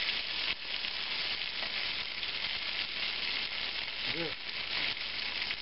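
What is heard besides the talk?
potatoes frying with bacon and onions in a pan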